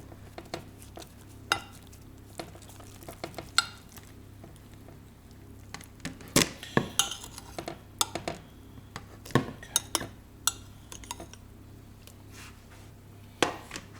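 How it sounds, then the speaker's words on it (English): Cooked beluga lentils being tipped into a salad spinner in a kitchen, with scattered light clinks, taps and rattles of utensils and bowl, some sharp and close, over a steady low background hum. "I have a salad spinner here, I'm just going to put it in there."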